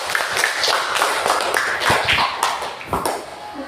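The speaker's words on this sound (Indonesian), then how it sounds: "Tepuk tangan dulu untuk teman kalian." Students in a classroom clap their hands in a brief, uneven burst of sharp claps at close-to-moderate distance, without a steady rhythm.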